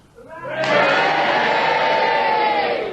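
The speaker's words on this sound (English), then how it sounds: "you all cheer now for Derek Nimmo, and if you don't, you all boo for Peter Jones" A studio audience at a radio panel game show erupts in a loud, sustained roar of cheering and booing together, rising quickly and holding at full volume without any speech.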